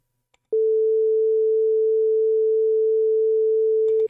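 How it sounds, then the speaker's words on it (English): A pure synthesized tone built in UE5 MetaSounds with an LFO, a single clean mid-pitched note that switches on abruptly and holds steady and loud for about three and a half seconds before cutting off. "we're introducing some warbling to a pure frequency"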